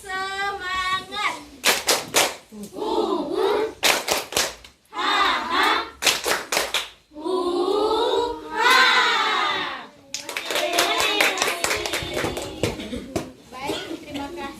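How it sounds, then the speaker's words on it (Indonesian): A group of young children at an early-childhood session perform a rhythmic cheer, chanting and shouting in unison between sharp bursts of synchronized clapping, with an adult voice leading the pattern. "Tepuk semangat."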